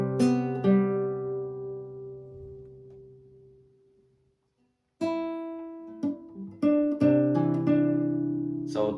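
Acoustic guitar picks out a short passage of a piece from Jujutsu Kaisen, a few ringing notes that decay into a brief silence before a quicker run of plucked notes resumes, close and solo.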